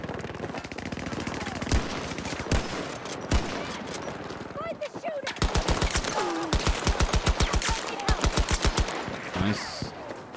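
Rifle fire in the shooter game Battlefield 2042 rattles in loud, rapid automatic bursts with brief pauses, growing into a dense stream of shots near the end.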